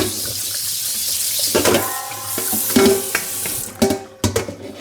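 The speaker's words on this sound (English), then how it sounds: "so we give our bowl a rinse, of course. Make sure it's clean." A bowl is rinsed under a running kitchen tap while cooking linguine with clams: splashing, gurgling water with several sharp knocks and clatters of the bowl against the sink near the end.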